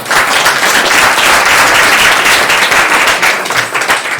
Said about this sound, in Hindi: क्या इसके लिए आप तालियां नहीं बजाएंगे?